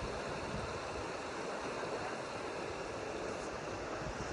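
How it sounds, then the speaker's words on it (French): A small mountain river in the Écrins rushes in a steady, broadband wash of flowing water with no other sounds. "Et là, la petite rivière."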